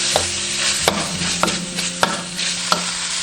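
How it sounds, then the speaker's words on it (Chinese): Minced meat stir-fried with scallion, ginger and garlic in a wok: a loud close sizzle punctuated by regular spatula scrapes about every half second, no voices. "炒至变色过后，下入葱姜蒜炒香"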